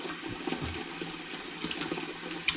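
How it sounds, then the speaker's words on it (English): Tap water runs into a home brewing fermenter for a tomato paste wash, a steady close rush of pouring water that continues without pause. "I'm going to get some cold water or some tepid water going in here now."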